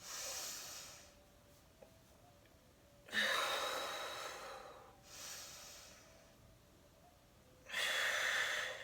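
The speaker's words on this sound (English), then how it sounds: "Long, deep breathing." Slow, deep breaths from Kundalini yoga, with long airy inhales and exhales that alternate in broad swells of hiss, close and fairly loud, with no talking.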